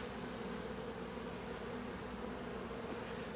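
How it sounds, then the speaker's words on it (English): Honeybees from a backyard hive in September drone in a steady, continuous hum, a dense swarm sound that stays even and unbroken throughout, with no voices. "the bees that belong to my hive"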